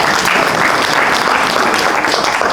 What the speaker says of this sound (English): Can we clap for His Excellency?